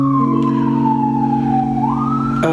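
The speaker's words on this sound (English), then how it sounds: "I'm in New York City as I record this, so sirens and stuff." An emergency vehicle siren on a New York City street holds a loud, near, steady wailing tone that slowly falls and rises again, with no talking over it.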